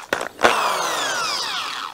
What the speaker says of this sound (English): I can get my drill and I can drill right in here